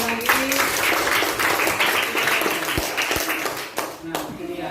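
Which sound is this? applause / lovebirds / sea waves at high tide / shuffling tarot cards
applause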